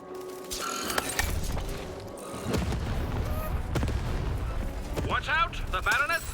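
Cannon firing in the video game Lost in Random, booming mechanical blasts and clanking gear-like rattles amid layered game effects, with a voice speaking over parts of it.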